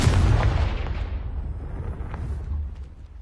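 A Confringo spell blasts in the Hogwarts video game with one loud, rumbling explosion that rolls out and slowly fades away, heard on its own with no voices.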